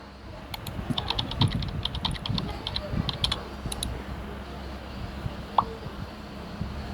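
Keyboard typing in a night-shift nurse video game, a quick run of soft clicking keystrokes over a noisy background, with a person talking.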